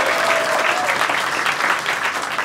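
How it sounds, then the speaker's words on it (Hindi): A comedy crowd-work audience breaks into loud, dense applause for a couple's 37th wedding anniversary, a thick wash of clapping that holds steady throughout. "एक बार जोरदार तालियां दोस्तों"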